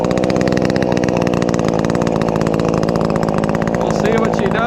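A ported NeoTech 843 chainsaw, a Husqvarna 543xp clone with a 16-inch bar and brand-new chain, bucks wood. Its engine roars loud and close with a steady high buzz throughout, shifting slightly near the end.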